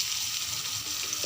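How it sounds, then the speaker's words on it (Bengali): Potatoes fry in a pan until browning, a brief, soft, steady sizzling hiss with no speech. "আলুগুলো একটু লাল লাল করে ভেজে নিয়ে"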